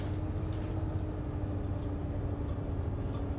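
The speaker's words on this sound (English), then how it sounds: "This bus by far sounds the best." A bus engine in Bus Simulator 18 drones steadily with a deep, continuous low rumble and hum, close and unbroken throughout.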